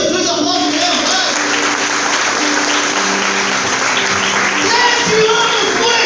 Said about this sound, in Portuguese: Pode aplaudir Jesus, aplaude mesmo,